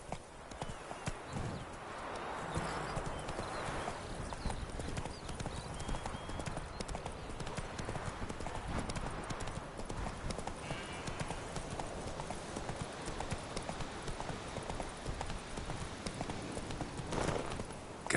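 Geralt's horse Roach gallops in The Witcher 3, a fast, unbroken patter of nearby hooves running steadily over a dense ambient backdrop.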